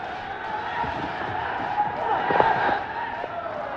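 A cricket stadium crowd roars for Bangladesh at the start of an innings as the first ball is bowled, a sustained distant cheer with a swell of noise partway through, heard under a commentator's voice.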